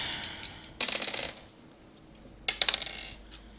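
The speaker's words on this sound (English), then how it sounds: "Let's roll some percentage dice." Percentile dice for a tabletop role-playing game clatter across a surface in two short rattling bursts, each a quick cluster of sharp clicks settling fast, with quiet room tone between.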